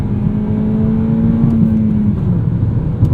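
2019 Toyota Corolla XSE hatchback with a 6-speed manual pulling in second gear, a loud steady engine drone rising slightly in pitch from inside the cabin, no talking.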